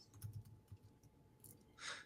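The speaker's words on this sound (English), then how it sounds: "a lot of typing and a lot of silence" Quiet, close typing on a computer keyboard in an office, a run of soft uneven key clicks ending in a brighter burst of clatter.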